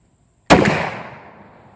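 A single loud shotgun blast fired through a rifled choke tube, a sharp close crack followed by a decaying roll of reverberation lasting over a second.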